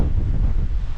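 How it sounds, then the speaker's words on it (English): Strong wind on a hillside on the South Downs buffets the microphone with a heavy, low roar that rumbles continuously without a break. "Pretty windy here"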